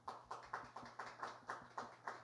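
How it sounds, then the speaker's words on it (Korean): Audience clapping at a New Year workplace opening ceremony, heard as about nine evenly spaced claps in a steady unison rhythm, fairly faint and with no talk over them. "다 같이 계신 곳에서 스스로 박수 한번 치겠습니다"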